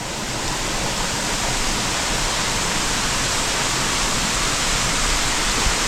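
A mountain waterfall pours down right beside an abandoned monk's hut in the rain, making a loud, unbroken roar of falling water that holds steady throughout, with no talk.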